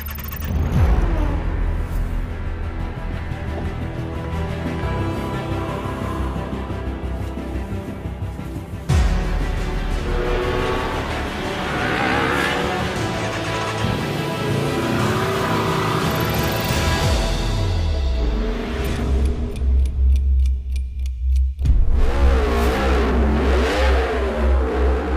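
A Griiip G1 race car engine in a virtual racing game revs continuously and loudly, climbing and dropping through gear changes, with a sharp shift near the middle and harmonic pitch sweeps toward the end.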